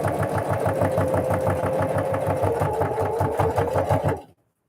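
A sewing machine stitches fabric for a Christmas bucket, running at a steady fast rhythmic pace with a clear repeating needle beat that stops abruptly near the end; no talking.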